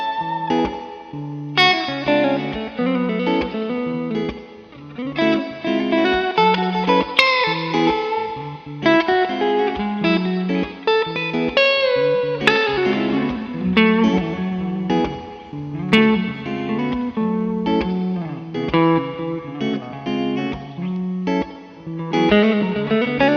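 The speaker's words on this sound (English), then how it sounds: "the 1976 Gibson Les Paul Deluxe, the one that I own in particular" A 1976 Gibson Les Paul Deluxe electric guitar with mini humbuckers plays a distorted, effects-laden tone, strumming chords and riffs in a steady, close-up, continuous run with no talking.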